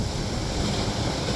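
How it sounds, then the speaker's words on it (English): An Icelandic waterfall heard from behind the falling water: a constant broad roar with a deep rumbling low end, loud and unbroken throughout, with no speech. "We're behind the waterfall now."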